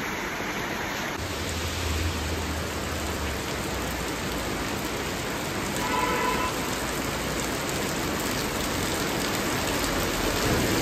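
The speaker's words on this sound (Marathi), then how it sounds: "पण आता मध्ये खतरनाक पाऊस चालू झाला आहे बघा" Heavy rain at the Japanese Garden in Goa pours down in a dense, unbroken hiss, loud and steady throughout.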